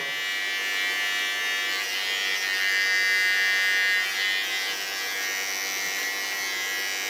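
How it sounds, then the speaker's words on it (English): An electric hair clipper buzzes steadily close by while trimming hair at the sideburn, a continuous hum that swells slightly midway, with no talking. "Coming to the sideburn. Take the tip of my clipper."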